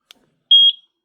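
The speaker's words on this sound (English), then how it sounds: "I heard a beep" A short, clear electronic beep sounds once from a eufy SoloCam E30 security camera after its sync button is pressed, preceded by a faint click in otherwise near silence.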